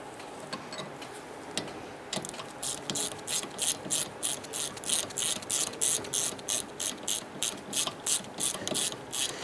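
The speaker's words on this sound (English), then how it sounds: "I'm going to snug up both upper and lower caliper bolts" Ratchet wrench tightening the upper and lower rear brake caliper bolts on a 2006–2010 Honda Civic: a steady run of sharp, close clicking strokes in even rhythm, with a few scattered taps first and no talking.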